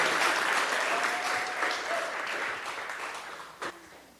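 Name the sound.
audience applause for valedictorian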